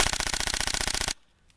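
A rapid, evenly spaced burst of about twenty loud, close mechanical shots from an electric airsoft gun, stopping abruptly into near silence.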